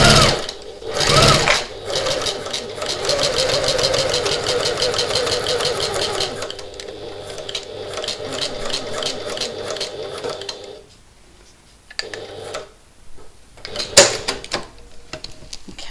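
A sewing machine stitches foam into place on a backpack, a fast, close mechanical whirr running in long bursts, then slowing and stopping with a few handling clicks and pauses near the end.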